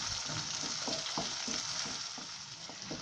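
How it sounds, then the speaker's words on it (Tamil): Chopped tomatoes and onions frying in a pan for Andhra-style bitter gourd curry, a loud continuous sizzle with repeated spoon-stirring scrapes at an even rhythm, close up and without voices. "தக்காளி நமக்கு நல்லா கொலைய வதங்கட்டும்"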